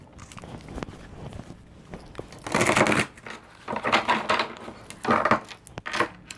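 Tarot cards are shuffled close by in several bursts of riffling and flapping, with soft taps and handling noises between them and no talk.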